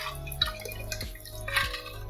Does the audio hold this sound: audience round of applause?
no